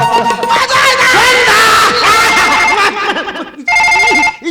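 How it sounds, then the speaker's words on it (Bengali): A phone ringtone plays loudly and repeatedly over a comic folk performance, with laughter and voices mixed in, then a final clear burst of ringing alone. "ফোনটা তো ডিস্টার্ব করে"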